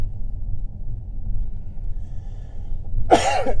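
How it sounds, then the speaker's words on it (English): A single harsh cough bursts out near the end, loud and close, after several seconds of low rumbling background in suburban Brossard, near Montreal. "And yes, I do have a horrendous cough."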